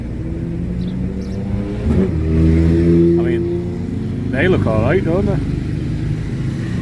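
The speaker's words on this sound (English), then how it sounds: "Sorry, some loud motorbikes going past." Loud motorbikes roar past outdoors while someone checks an old Daimler's electrical parts, engine noise swelling and fading over several seconds beneath steady close speech.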